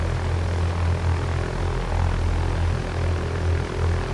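A Cessna 172 single-engine plane with its propeller running in flight, a steady droning hum with a strong low engine tone and pulsing propeller beat, close and continuous with no talk.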